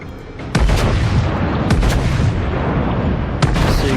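A warship's guns fire a volley in a naval video game, with several heavy booming shots at irregular intervals over a continuous loud rumble.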